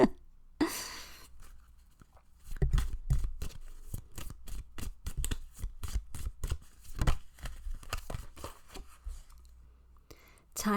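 Tarot cards are shuffled, drawn and laid down in a rapid series of crisp slaps and flicks, close and fairly quiet, with brief pauses between bursts of handling.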